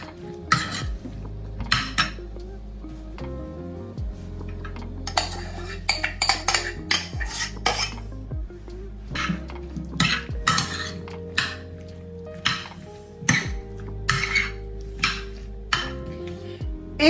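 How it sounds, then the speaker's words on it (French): Metal utensil scraping and clinking against a dish while a cornstarch-based preparation is stirred, in repeated irregular strokes, fairly close, over steady background music. "Je mélange bien pour bien répartir"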